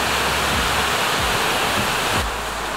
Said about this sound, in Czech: Naše první dnešní zastávka jsou Ravana Waterfalls, takovýhle krásný vodopády.